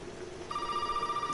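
A short electronic phone ring in the video game Resident Evil 7 chimes in over a low background hum, brief and moderately loud.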